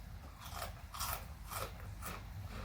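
Several crisp, loud crunches of Cheetos Crunchy Flamin' Hot cheese puff chips being bitten, close up, about four bites spaced roughly half a second apart with no talking.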